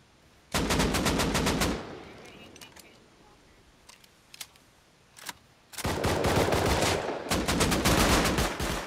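An automated turret in the survival game Rust fires long rapid bursts, loud and close, one at the start and another near the end, with scattered single cracks and a faint voice between.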